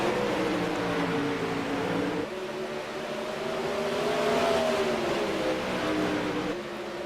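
Race cars roar off the green flag at the start of heat race number 3, a dense, steady engine drone with rising pitch as the field accelerates, continuous and loud with no talk.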